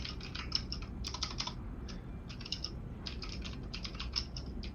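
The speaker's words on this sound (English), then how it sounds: "That is a very loud keyboard you have there." A loud computer keyboard clatters through rapid bursts of typing with brief pauses between them. Sharp, crisp keystrokes sit over a low background hum, with no talking.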